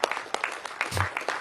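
Thin, scattered handclaps from a small audience, a few distinct individual claps standing out over a short stretch, moderately near with no one speaking.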